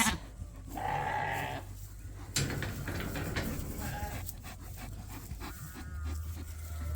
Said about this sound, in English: These are all the ewe lambs from this year, from the first group, plus our keeper ram lambs.